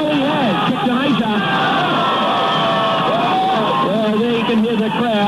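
Crowd at the 1989 SFL League Grand Final between Gosnells and Wanneroo cheering after a goal, a loud sustained roar with whoops and shouts, continuous throughout.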